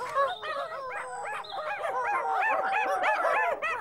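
A small cartoon dog yaps in a rapid, continuous string of high, bouncy barks and yips, close and lively, with faint background music.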